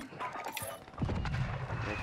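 Muffled bursts of gunfire and a deep explosive boom from a video game, rumbling over a dense, noisy background.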